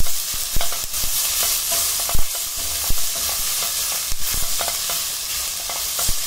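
Vegetables with peas and capsicum stirred and mixed in a pan for veg vermicelli pulao, a steady bright sizzle broken by repeated spoon scrapes and knocks against the pan, close and fairly loud.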